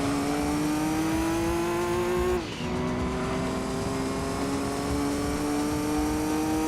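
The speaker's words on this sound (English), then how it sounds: "it really sounds like there's an issue with the car when it gets going from low revs" A Gran Turismo 2 race car engine whines steadily at rising revs, drops sharply as a gear changes, then climbs again from low revs with a strained, hesitant pull, loud and close.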